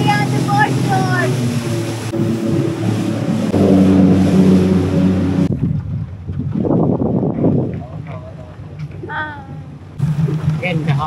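A boat cruising on the Brunei River, its engine droning steadily under wind and water noise, with people talking over it.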